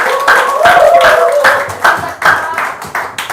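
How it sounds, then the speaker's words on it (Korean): A seminar audience claps to welcome a speaker, giving a short burst of close, uneven hand claps that fades into a few scattered claps. "박수로 환영해 주세요."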